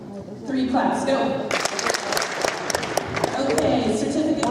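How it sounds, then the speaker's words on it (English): A school awards-ceremony audience claps together, a dense burst of hand claps mixed with crowd murmur and a voice speaking over it, near and fairly loud. "Three claps, go"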